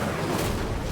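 An Incendio fire spell cast in the video game Hogwarts Legacy, a dense, loud rumbling burst that roars throughout with a booming, explosive body.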